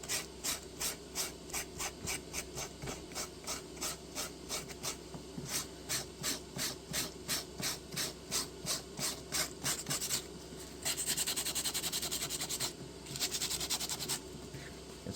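Wood is sanded by hand with sandpaper in fast, rhythmic back-and-forth scratching strokes, close and steady, changing into a denser rasp near the end.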